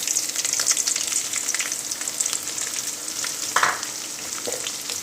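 Chili powder is stirred into hot oil for a date pickle, giving a lively close sizzle and crackle with occasional scraping stirs against the pan.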